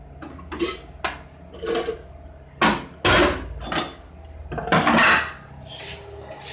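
Raw catfish pieces are dropped into a metal pot, producing a series of close, loud metallic clanks and thuds at irregular intervals with short pauses between them. Nobody speaks.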